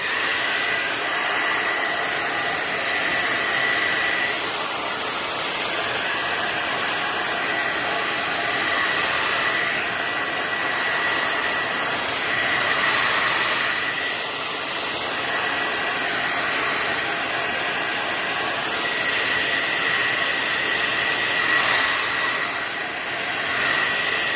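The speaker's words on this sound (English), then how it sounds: "I'm going to hit it with a hairdryer again" A hair dryer blows steadily and loudly for the whole stretch, a constant whirring roar with slight swells and no voices.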